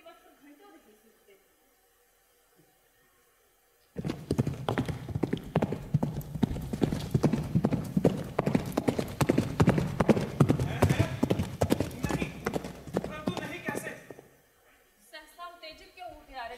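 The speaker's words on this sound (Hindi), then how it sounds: "मैंने अभी एक आकृति को घोड़े पर जाते देखा है।" A horse clip-clops past for about ten seconds, its hoofbeats loud and close, with faint sounds before and a short quieter passage after, during a Hindi stage play.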